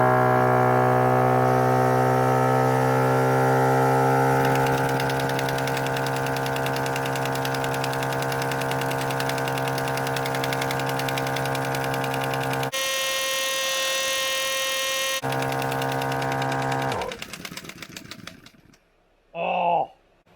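A Maxi Trac power tool strains against a car lug nut, set in reverse, giving a loud, steady, strongly tonal whine and hum for most of the clip, briefly shifting pitch, then cutting off into near silence with a short burst at the end.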